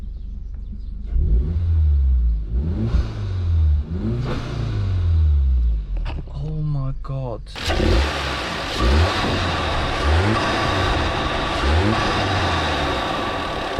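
A Volkswagen Scirocco engine with a performance air filter and turbo revs repeatedly in rising and falling bursts, loud and close, with a sharp louder roar partway through and a brief exclaimed voice.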